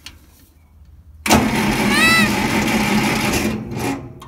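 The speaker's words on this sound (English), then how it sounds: "let's crank this bad boy up and see what sort of action we get" An engine with the choke on is cranked and fires abruptly after a second of near quiet, then runs loud and rough and close, settling briefly before fading toward the end.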